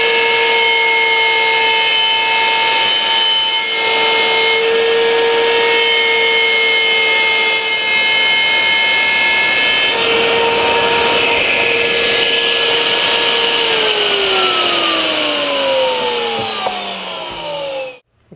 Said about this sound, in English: run my router with my plunge bit with that upcut bit around the outside there just to cut off the tail piece